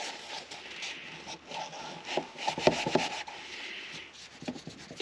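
Cloth wiping away spray adhesive overspray during Subaru Forester repair work, a steady close rubbing and scrubbing with a few sharper swipes, no talking.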